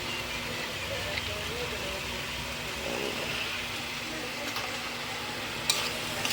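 Dried fish and salt are stirred in a pan, giving a steady, soft sizzle and scraping texture at moderate level. A couple of sharp utensil clicks sound near the end, with no speech.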